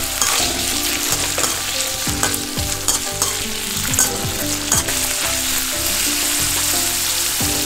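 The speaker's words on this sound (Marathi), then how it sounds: "आता हे तुकडे मी थोडी थोडी करून तेलात सोडते. ऍक्च्युली हे असे थोडेसे असे फ्राय करून घ्यायचे." Paneer cubes fry in hot oil with a steady loud sizzle, while pieces drop in a few at a time and a spatula stirs and clatters against the pan throughout.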